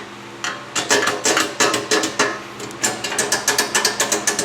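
Loose metal belt cover on a Grizzly 20-inch helical head planer with a triple V belt, rattling in a quick series of clicking, ratchet-like taps that speed up into a steady rapid rhythm, close and clear with no speech.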